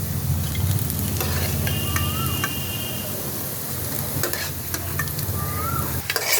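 Papaya flower fritters fry in hot oil, a loud, close, continuous sizzle and crackle with occasional scraping as they are turned and lifted out. A faint tonal whistle rises in the background, and nobody speaks.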